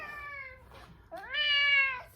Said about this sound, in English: you want to see my cat? This is my cat Puppy.